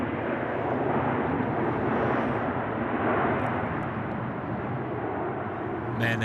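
Airbus A330 jet engines roar steadily at Sydney Airport, a broad, sustained rumble holding at constant loudness for several seconds, heard from a distance but still powerful.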